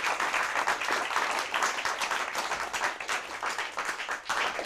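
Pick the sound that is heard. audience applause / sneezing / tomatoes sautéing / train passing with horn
audience applause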